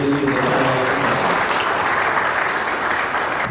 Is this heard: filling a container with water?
no